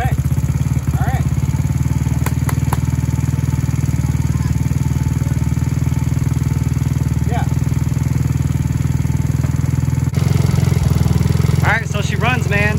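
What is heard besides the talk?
Taotao Pony 50 engine idling after camshaft install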